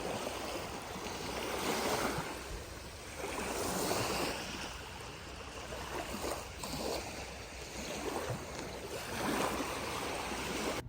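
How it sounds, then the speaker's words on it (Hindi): Water waves lapping at a lakeside or beach during a family barbecue, a steady broadband wash that swells and recedes in slow surges, fairly close with wind, no talking. "ऐसे यहाँ खड़े रह के ना पानी का साउंड इतना अच्छा लग रहा होता है ना"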